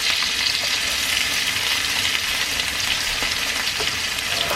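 Head-on shrimp frying in oil in a pan, a loud, steady, bright sizzle that stays even throughout with small crackles popping through, close up and with no talking.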